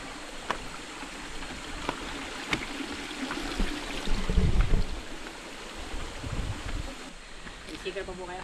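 A river flows and trickles steadily in the background near a waterfall, with people chatting nearby and occasional louder splashy swells.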